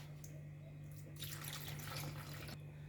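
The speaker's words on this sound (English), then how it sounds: "So we add water to the groundnuts and mix it a bit before we add it." Water is poured from a container onto ground groundnuts for a Ghanaian soup. It is a soft, steady splashing pour of about a second and a half, close by but quiet, over a low hum.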